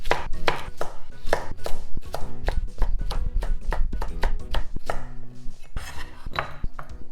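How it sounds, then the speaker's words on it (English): A knife chops cucumbers for kimchi on a cutting board, a steady run of crisp, close knocks with a few short pauses and no talking. "Then next I'm gonna cut up the cucumbers."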